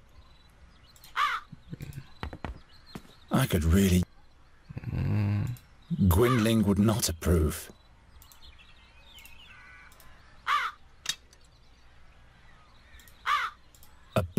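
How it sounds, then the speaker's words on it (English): Crows caw in several harsh bursts, some near and loud, others fainter, in The Dark Eye: Chains of Satinav, with a person speaking briefly between the calls. "But first I'll deal with the crows."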